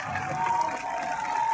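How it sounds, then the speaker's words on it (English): A crowd at a Bacon County Red Raiders versus Vidalia High school event gives a steady round of applause with cheering, a continuous wash of clapping throughout. "Please give them a round of applause"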